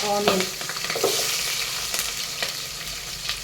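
Whole spices and green chilies fry in hot oil for bagara rice, a dense close sizzle with a few stirring clatters throughout.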